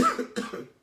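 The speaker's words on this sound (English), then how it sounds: "Okay, cue cough." A man with flu gives a short cough, then a second rougher burst after a brief pause, close and fairly soft, with a slightly voiced, throaty quality.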